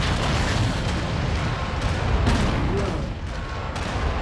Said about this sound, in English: I guess I'll just fire my ammo-based weapons at him.